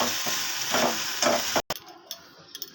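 Kochur loti (taro stolons) are stirred with spices in a hot pan, a close, steady sizzle with scraping spoon strokes that cuts off abruptly, leaving a few faint clinks.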